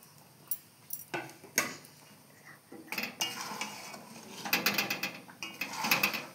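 Raw mango pickle with salt and turmeric stirred in a pan over a gas flame, giving intermittent metallic scrapes and clinks of a spoon against the pan, growing busier and denser toward the end, close and without talk.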